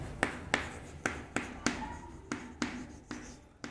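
Chalk strikes and scrapes on a board as a definition is written out, a series of about a dozen sharp taps and short strokes in an irregular rhythm, close and fairly quiet.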